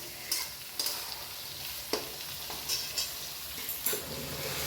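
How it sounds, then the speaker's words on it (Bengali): Onions sizzle steadily in oil in a pan while a utensil scrapes and stirs every second or so, producing sharp clacks over the continuous frying hiss. "এদিকে মাংসের জন্য পেঁয়াজ ভাজা হচ্ছে"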